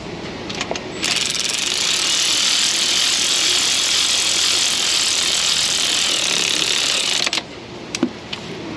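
A power tool runs spark plugs down into the threads of a 2000 Chevrolet Silverado 1500 with a 5.3 engine, giving one steady, loud mechanical whir of about six seconds, with a few clicks before and after.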